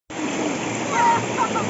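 Splashing in clear, spring-like river water at Kabong-Kabong, with a steady rush of flowing water throughout and a slightly louder surge midway, voices faintly present.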